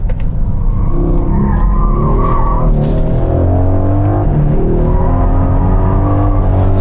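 A loud AMG engine roars as tires squeal and skid through a turn, the screech rising and bending over the steady motor drone.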